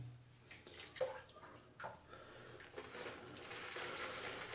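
Water runs and splashes faintly as an artisanal synthetic shaving brush is wetted, a soft trickling flow that rises and falls in short pulses in a quiet room.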